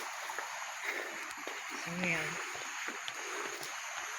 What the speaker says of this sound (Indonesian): kedengeran kenceng bener aliran airnya